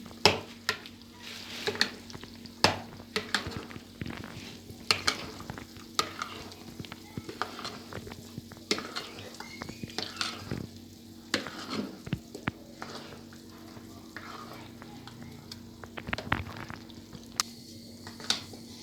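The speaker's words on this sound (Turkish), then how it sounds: "Patlıcanlarımızı süzme yoğurdumuzla iyice karıştırdık" A spoon scrapes and clacks against a pan as roasted eggplant is mixed into thick strained yogurt for Gaziantep-style Ali Nazik, with a soft sizzle beneath the repeated irregular knocks.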